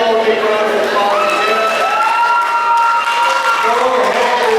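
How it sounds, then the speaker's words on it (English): A county fair main show crowd claps steadily and fairly loudly for the whole stretch, with voices and a few rising whoops or cheers carried over the applause. "Give them all a big round of applause."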